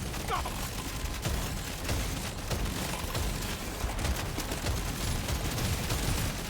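Warthog weapon firing forward in Deep Rock Galactic Survivor, a rapid, dense stream of gunfire bursts and mechanical clatter running continuously and fairly quietly throughout, with no talk over it.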